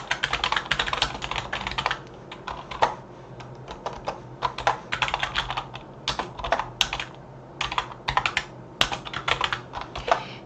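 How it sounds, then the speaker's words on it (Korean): Fingers tap quickly on a computer keyboard, entering text in a steady stream of close, crisp keystrokes with short irregular gaps, mostly uninterrupted. "그 다음에 이제 글자를 제가 입력할게요."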